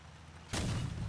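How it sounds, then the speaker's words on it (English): A cannon fires once in the vehicle combat game Crossout, a sudden heavy boom that breaks a quiet moment and rumbles on to the end of the short excerpt. "We're killing someone with this cannon."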